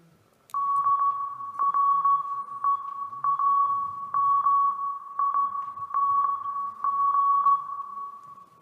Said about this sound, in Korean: Which member's Morse code are we playing right now?